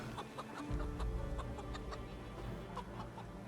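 Chickens clucking as they are carried out in a farming video game, a steady patter of soft clucks over a low rumbling background, with no one talking.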